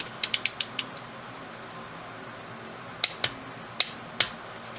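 A torque wrench clicks as it tightens a bolt on a Polaris Ranger utility vehicle, a quick run of five ratcheting clicks, a pause, then four more spaced clicks, close and crisp with no talking.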